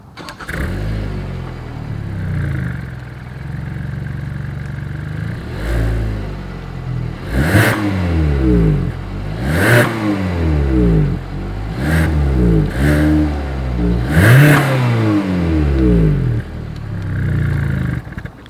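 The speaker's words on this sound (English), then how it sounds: "So as always, here is that exhaust clip." A 2020 Hyundai Tucson SUV engine idles, then revs up sharply about half a dozen times through a deep, throaty exhaust, each rev rising and falling back, loud and close.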